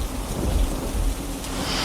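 A thunderstorm with heavy rain forms a dense, steady roar of downpour, with low rumbles of thunder underneath, loud and unbroken throughout.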